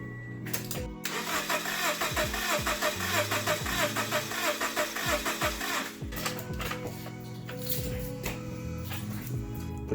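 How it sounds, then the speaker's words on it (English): Supercharged Scion FR-S engine cranking over with the starter during a compression test, a steady rapid chugging rhythm that runs loud and close for most of the ten seconds without catching. "I'll go ahead and crank it up."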